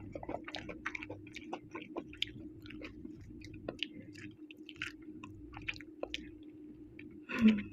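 Close, steady chewing and biting of spicy Thai mushroom curry with puffball mushrooms, with soft wet crunches throughout and a louder crunch near the end, alone without talk.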